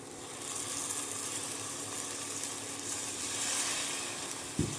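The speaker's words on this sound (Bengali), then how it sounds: "সুন্দরভাবে এটাকে ফ্রাই করব টমেটোর কাঁচা গন্ধটা চলে যাওয়াতে" Tomato puree sizzling and frying with ginger garlic paste in a pan for Dhungar chicken, a steady broadband hiss held at even level throughout, with a brief knock near the end.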